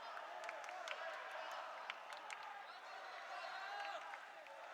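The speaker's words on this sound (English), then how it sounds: "And the counter cheering starts again." A distant arena crowd at a table tennis final cheers and claps in a steady wash of noise, with scattered sharper claps and shouts, fairly faint overall.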